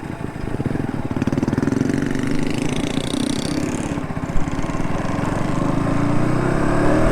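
A KTM RC 200 motorcycle engine runs steadily on a test ride, its drone holding close and loud before the pitch climbs gradually as the bike speeds up.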